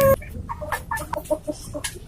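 A small chicken suffering from a respiratory illness gives a quick run of short, close clucks and raspy chirps in uneven bursts, each brief and separated by small gaps.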